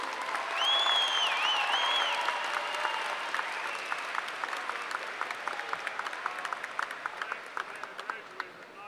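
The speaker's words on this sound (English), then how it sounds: "Let's have one more round of applause for those fine young officers." A crowd at a university commencement ceremony applauds steadily, loud at first and gradually thinning into scattered individual claps, with some cheering and voices mixed in.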